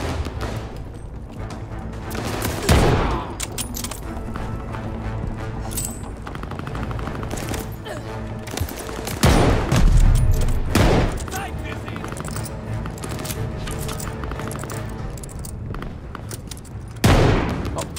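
Gunfire in a Call of Duty Vanguard campaign battle, dense bursts of shots and sharp cracks with a few heavy impacts, loud and continuous over a busy combat din.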